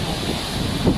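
Super typhoon wind roars against a house with surf crashing nearby, a loud gusty rush buffeting the microphone in a brief burst.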